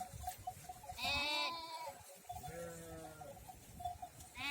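Hornless Anadolu merino sheep grazing outdoors in extreme cold give two clear, close bleats, one shorter and one longer and wavering, over a low steady background hum.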